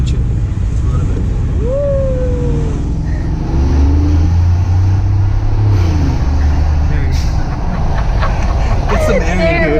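A Mercedes G550 4x4 Squared off-road truck accelerating hard, a loud low engine roar swelling from the middle of the clip, with wind and road noise up close.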